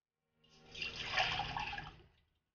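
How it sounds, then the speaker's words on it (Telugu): Water poured into a pot set on a stove, one short splashing pour that swells and fades over about two seconds, faint and close with no talking. "వాటర్ని పోసుకోండి."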